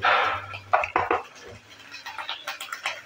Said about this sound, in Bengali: সব কিছু দেওয়ার পর ভালো করে একটু মিক্স করে নিচ্ছি